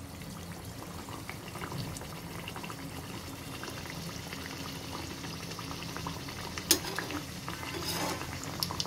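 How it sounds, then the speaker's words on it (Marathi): Sweet puri fries in hot oil, a dense, steady bubbling sizzle that fills the whole stretch, with one sharper clink near the end and no speech. "आता आपण त्याच्यात ही पुरी सोडणार आहोत।"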